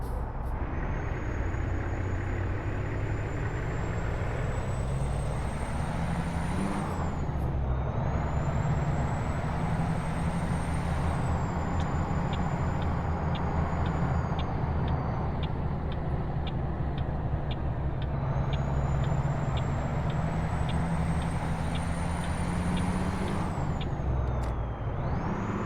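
Truck air brakes in American Truck Simulator, repeated sharp hissing releases over a continuous low diesel engine drone, with a rising whine and faint rhythmic beeping during the middle stretch.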